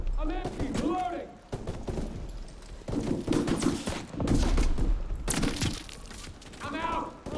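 Rapid gunfire bursts and heavy shots crackle through a World War II battle in Call of Duty WWII, mixed with shouted voices throughout.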